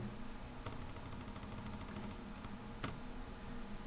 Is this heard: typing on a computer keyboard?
yes